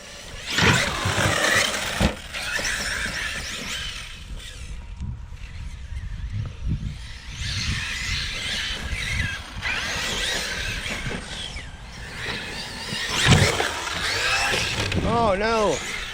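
Arrma Kraton V2 and Kraton XL RC cars bashing on a ramp, motors whining and revving in bursts with tire squeals, heard under people talking to each other.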